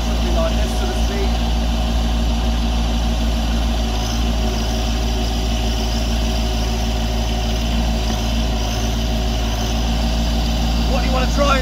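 Branson tractor with a quick-release backhoe digging at moderate speed, its diesel engine droning steadily and loud throughout with a constant low rumble, while a voice talks over it.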